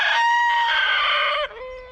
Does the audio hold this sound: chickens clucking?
yes